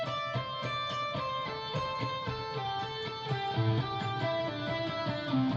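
Electric guitar plays fast pentatonic runs in groups of three, each group's first note struck twice, giving a steady repeating picked pattern of clear, close notes with no talking.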